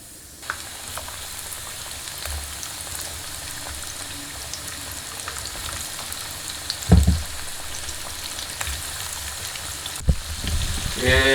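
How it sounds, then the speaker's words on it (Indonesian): Chicken pieces fry in hot oil with a steady, dense sizzle and crackle, sharp pops and bursts of spatter as pieces are moved, heard close with no talking. "Kita cemplungkan ke dalam oil minyak ya, bukan oli ya. Oke, langsung goreng."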